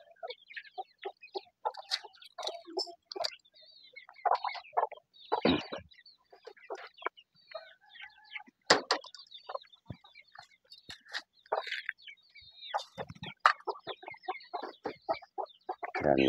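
Pet chickens clucking at feeding time on a small farm, a busy flock giving continuous close clucks and squawks with scattered louder calls and rustling.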